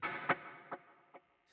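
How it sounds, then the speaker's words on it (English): A distorted guitar chord through a Marshall 1974x clone tone rings out with an eighth note delay, repeating in three fading echoes spaced evenly apart, alone and up close. "we've given you the 8th note delay that we usually do."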